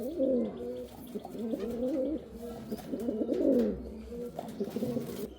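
A pair of Ablook pigeons coo in repeated soft, throaty rolling phrases, close and fairly quiet with no talk.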